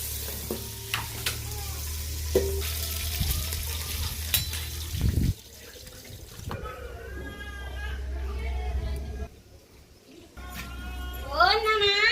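Onion and green chillies frying in hot oil make a steady, close sizzle and hiss with occasional stirring scrapes, under ongoing talk; a cat meows near the end.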